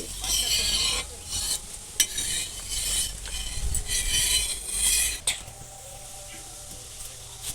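A brush spreads a little oil across a hot tawa for chicken kabab, making bursts of scraping, sizzling strokes with a few metallic clinks. The pan goes quieter near the end.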